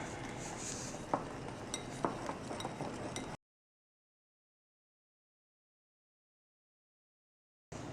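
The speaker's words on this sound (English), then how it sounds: "And now I'm going to add my baking powder. We're going to mix it together." Baking powder being stirred into a vegan pumpkin scone mixture in a bowl, with close scraping and a few light clinks of a utensil for about three seconds before the sound cuts to silence.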